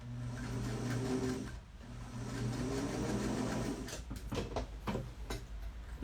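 A sewing machine stitching patchwork runs in a steady close whir, pauses briefly, then gives way to sharp clicks and handling knocks near the end.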